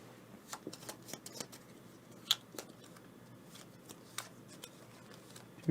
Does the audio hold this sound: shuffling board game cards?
yes